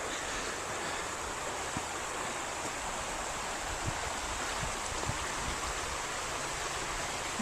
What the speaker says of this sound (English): And what a lovely stretch of the river it is as well.